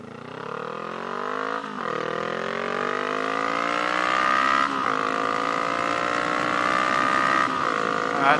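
A 2015 Honda CB500F motorcycle accelerating hard through several gears, its engine note climbing steadily with brief dips at each upshift, loud and close.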